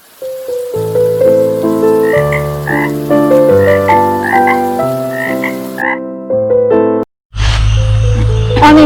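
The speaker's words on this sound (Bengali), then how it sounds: "অনেক ফ্রগ ডাকতেছে," Many frogs croak at night in Lawachara National Park, a dense, continuous chorus of overlapping calls with bright repeated chirps on top. It is cut off briefly near the end and then resumes loud.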